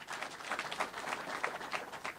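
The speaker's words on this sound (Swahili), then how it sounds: "Mpeni makofi yake." An audience at a political address at a party headquarters in Nairobi breaks into applause, a dense, moderately loud patter of clapping that rises and falls in waves.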